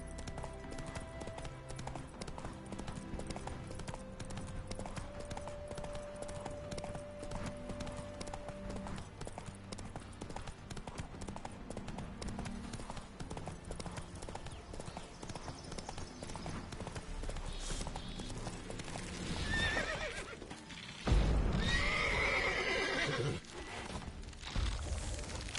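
Roach the horse in The Witcher 3 moves at pace, hooves clip-clopping in a steady, continuous rhythm, with a louder thudding stretch near the end.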